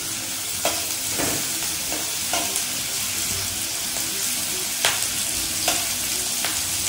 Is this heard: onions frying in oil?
yes